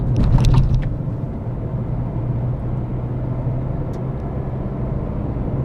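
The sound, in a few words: Renault Kiger car driving fast on bad road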